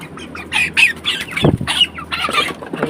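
Loud, frantic broiler chicken squawks burst out one after another close by, with flapping and scuffling noises between the cries.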